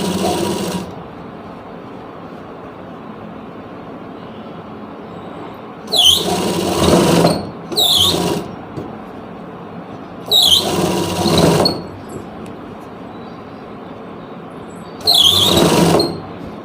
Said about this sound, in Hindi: देखिए दोस्तों मैंने यहाँ पे पूरे में सिलाई लगा ली है